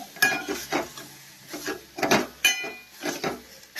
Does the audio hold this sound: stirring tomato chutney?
yes